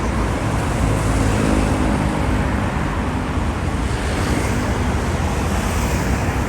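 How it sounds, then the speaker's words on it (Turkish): Steady road noise from inside a hired car driving through Bangkok streets, a constant loud rumble and tire hiss with no breaks and no talking. "Kentten çağırdığımız araba bu şekilde."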